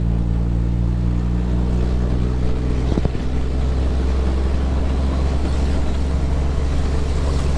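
Mack B-21 truck engine driving on the road, a steady deep low rumble with harmonic drone throughout, close and loud, with a brief clunk near the middle and wind noise.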